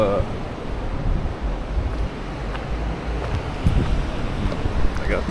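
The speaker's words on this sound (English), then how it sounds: "Back at my local beach here. Such a nice beach too." Waves and wind at Hamoa beach on Maui, a steady broad rush of surf with buffeting wind noise on the microphone, continuous and fairly loud, with no clear talk.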